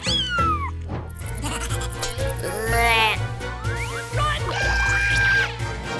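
A cat meows repeatedly over lively background music in a children's cardboard-house play scene, giving several drawn-out, rising and falling cries that sound close and fairly loud.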